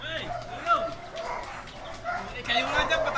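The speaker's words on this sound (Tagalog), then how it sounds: "Nagtatahol ng aso dun sa looban." A dog barks and yips somewhere off in an inner yard, fairly faint and mixed with people talking close by.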